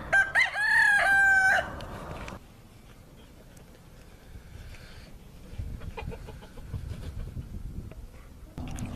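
A game fowl rooster lets out a loud, close crow at the start, then several seconds of soft clucking and faint scratching movement follow before a brief noise returns at the end.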